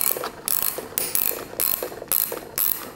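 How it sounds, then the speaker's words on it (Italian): Motorcycle handlebar clutch cable adjuster turned by hand in short bursts of quick ratcheting clicks, about five spaced runs separated by brief pauses, close and crisp. "andiamo sul registro a manubrio, lo portiamo a zero, quindi diamo tutto il gioco possibile"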